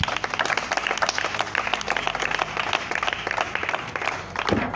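A church audience applauding in praise of the Lord, dense rapid clapping rising and falling over several seconds at close range, thinning out near the end.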